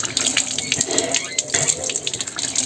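Cold water pours steadily over a heron's head in a village setting, a continuous close splashing stream like a running tap with no voices.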